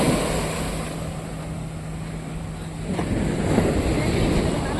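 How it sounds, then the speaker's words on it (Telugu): Ocean surf washes onto a beach at Alappuzha in Kerala as a steady broadband roar, mixed with wind buffeting the microphone and a faint low hum, with no voices. "చూసారు కదా, ఇది బీచ్."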